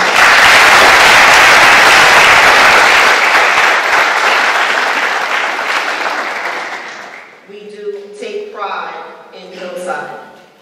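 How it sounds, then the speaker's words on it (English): Audience at a township State of the Township address in Hillside, New Jersey, breaks into loud, sustained applause that gradually fades out, after which a voice begins speaking. "Give them a round of applause."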